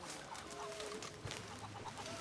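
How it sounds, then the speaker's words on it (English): Chickens clucking in the video game Red Dead Redemption 2, a few soft scattered clucks over quiet ambient game sound. "Okay, chickens."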